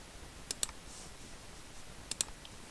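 Two quick pairs of crisp computer mouse clicks, faint and close, separated by a quiet pause.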